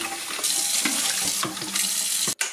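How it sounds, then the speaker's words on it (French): Running water rinses the dirty water tank of a Tineco Carpet One carpet cleaner, a steady close splashing flow with sloshing bumps, ending in a brief cutoff and a final splash. "Vous jetez l'eau sale et vous rincez le bac à eau sale."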